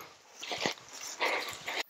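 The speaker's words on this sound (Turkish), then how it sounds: "Köpeklerimiz aşağı doğru indiriyorlar." Hunting dogs on a snowy hillside during a wild boar hunt in Amasya, heard as two bursts of distant, faint barking and yelping against a steady windy hiss.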